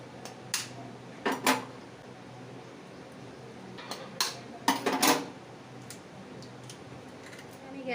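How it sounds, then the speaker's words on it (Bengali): Eggs being cracked in a home kitchen while making egg tadka dal. A few sharp taps and cracks come in small clusters over a quiet room hum, with gaps between them. "প্রথমে আমি ডিমটা ফাটিয়ে নিচ্ছি।"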